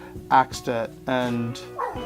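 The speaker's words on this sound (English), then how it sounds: "that's my dog." A pet dog gives a few sharp, yippy barks and a whining note close by, mixed in with a person talking.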